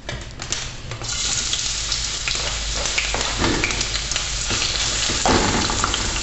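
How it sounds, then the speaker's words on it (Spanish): Chili toasting and onion frying in hot oil, a loud, close, continuous crackling sizzle that intensifies as the onion goes in, with occasional stirring scrapes and no talk. "A que el chile empiece a tostarse, usted lo está oyendo. Aprovechamos este momento en que nuestro aceite ya está suficientemente caliente y agregamos nuestra cebolla."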